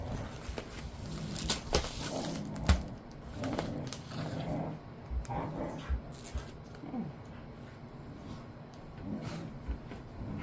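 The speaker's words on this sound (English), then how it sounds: "Of course, my dogs will have to play." Dogs romp and play indoors, with scattered yips, whimpers and scuffling thumps at irregular moments, fairly faint against a quiet room.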